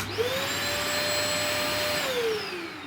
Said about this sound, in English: So it sounds just like a vacuum, a Hoover.